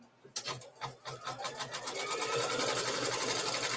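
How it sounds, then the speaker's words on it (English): A sewing machine stitches out the last piece of a quilt block, starting with a few quick separate stitch pulses and then settling into a fast, steady, close-up hum of continuous stitching. "And now I'm set to do my very last piece of the stitch out."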